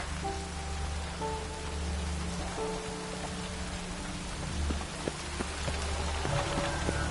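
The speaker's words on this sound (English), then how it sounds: "Looks like rain." Steady rain falls in The Witcher 3: Wild Hunt, a continuous broadband wash of drops with a low ambient rumble and faint game tones underneath, with no talking.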